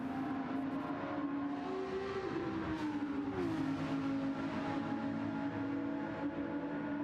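Race car engines in Gran Turismo 7 drone steadily and loudly throughout, pitch sliding slightly as the cars hold position close together, with a sharp burst right at the end.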